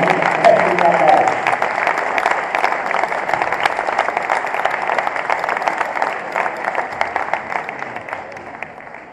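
Sustained applause from an audience at a robotics competition awards ceremony, dense clapping from a crowd that holds steady and slowly thins, with faint voices underneath.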